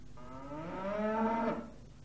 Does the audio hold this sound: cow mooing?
yes